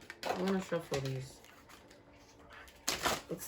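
Tarot cards are shuffled in a short, crisp riffle right after someone speaks briefly; the card noise comes on its own near the end, close and fairly clear.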